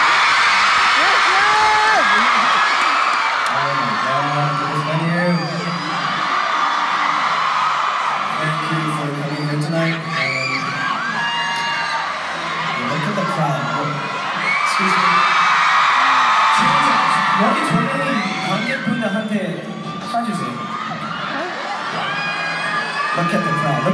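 A large crowd at a K-pop concert cheers and screams loudly, with high shrieks and whoops rising and falling in waves throughout and voices mixed into the din.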